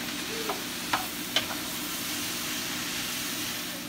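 Mushrooms lightly frying in a pan make a soft, continuous sizzle and hiss, with a couple of faint utensil taps early on. The sound is quiet and close, and nobody speaks.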